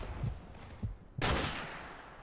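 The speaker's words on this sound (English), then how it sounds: "I shot him right in this freaking chest" Rifle fire in Modern Warfare Remastered, a couple of soft distant pops followed by one loud close shot that rings out and decays.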